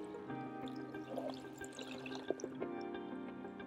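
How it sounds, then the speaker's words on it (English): Quiet trickle and splashing of liquid fertilizer poured from a watering can onto the top of a vertical planter, with soft drips and a few sharper splashes against low background hum. "I have some extra in my watering can, so I'm just gonna pour it into the top of my green stalk"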